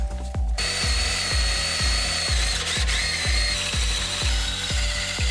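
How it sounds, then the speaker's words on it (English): A step drill bit bores through a steel bracket to widen a hole for a bolt on a Jeep JL steering upgrade, as a power drill whirs steadily with regular grinding bites about every half second. "I'm going to use this step bit until this bolt will fit through the hole."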